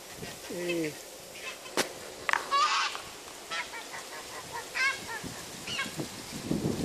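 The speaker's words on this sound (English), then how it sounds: "And these geese there are from the Marais de Poitevin. They're very old breed." Old-breed Marais Poitevin geese honk in a few loud, nasal calls, some near and some farther off, scattered between other farmyard sounds, while people talk quietly in the background.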